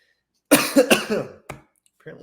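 A burst of several harsh coughs close to the microphone, followed by a short pause and another cough, then quiet talking begins.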